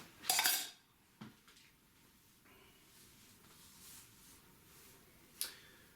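A Lifeventure camping cup and a spork being handled outdoors: a sharp metallic clatter at the start, a lighter clink a second later and another crisp tap near the end, with quiet between them.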